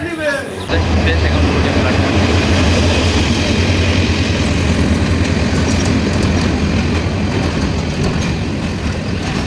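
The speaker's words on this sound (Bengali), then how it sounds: "এখন আমাদের প্ল্যাটফর্মে হচ্ছে ট্রেন ঢুকতেছে" A train pulls into a station platform at Patiya on the Chittagong to Cox's Bazar line, a loud, steady rumble of wheels and carriages with rattling clatter throughout, close by and filling the whole stretch.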